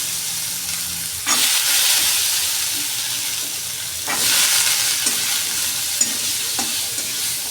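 Fresh green chickpeas are stirred into a spice masala and sautéed, giving a bright, loud frying hiss that swells in waves as they are tossed, with occasional spoon knocks and no voices.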